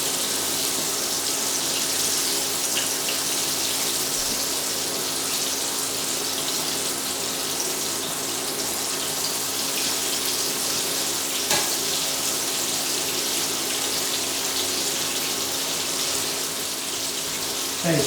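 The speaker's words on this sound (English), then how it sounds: "Just fry it for a few minutes. It forms its crust." Chicken pieces for Cantonese garlic fried chicken frying in oil, a steady, even hiss and sizzle that holds without pause and with no talk.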